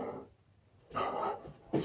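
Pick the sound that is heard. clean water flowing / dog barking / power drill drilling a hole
dog barking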